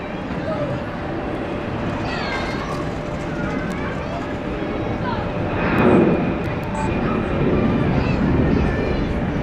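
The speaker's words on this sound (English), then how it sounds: "I've got a 320 departing" An Airbus A320 jet departs Zurich Airport, its broad engine roar building and peaking midway before holding steady, with a voice talking over it from the observation deck.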